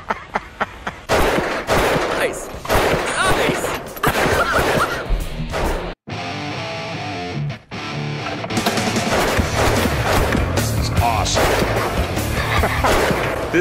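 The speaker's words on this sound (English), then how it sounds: "This fires only with each crank." A hand-cranked antique gun fires in a rapid burst of shots, one per crank, loud and close, with a brief pause midway before the firing resumes.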